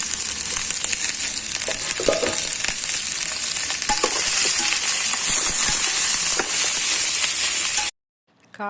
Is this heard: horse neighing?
no